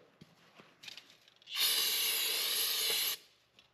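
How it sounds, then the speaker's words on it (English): Brake cleaner sprayed into a funnel during an oil change on a 2024 KTM 350SXF: a single loud aerosol hiss lasting about a second and a half, close up, after a few faint handling clicks. "Take your brake clean and just spray any residual dust and other types of oil out of there."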